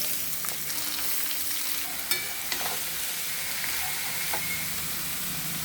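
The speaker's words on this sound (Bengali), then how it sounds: "এবার এটার মধ্যে ফোড়ন দিলাম, জিরা ফোড়ন" Potatoes frying in hot oil with cumin, bay leaf and salt, a loud continuous sizzle with occasional stirring clicks close by.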